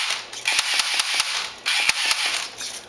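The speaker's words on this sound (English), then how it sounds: "push this button to fire" Arduino-controlled toy sentry gun firing, a rapid series of sharp mechanical clicks and pops in irregular bursts over a steady high-pitched whirring motor hum.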